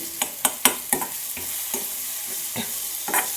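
Tomatoes frying in a pan over a low flame, with a spoon scraping and stirring in several close, distinct strokes over a soft, steady sizzle; no voices.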